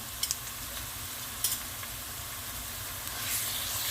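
Homemade pepper paste and tomato paste sizzle softly in a pan, a steady low frying hiss with a few faint clicks of stirring.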